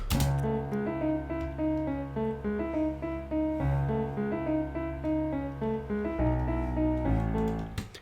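Layered piano notes in octaves play a repeating triplet melody over a steady beat with deep bass, loud and continuous throughout.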